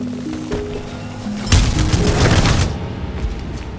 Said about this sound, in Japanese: 耳を澄ませば体をかすめる銃弾の音や頭上を旋回したり背後に忍び寄る見えざる敵の音が聞こえてきます。